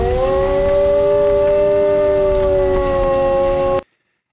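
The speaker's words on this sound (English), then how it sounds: "Just so happens I have two wolves howling right here." Two wolves howl together in long, sustained, overlapping tones that hold nearly steady in pitch, loud and close, cutting off abruptly near the end.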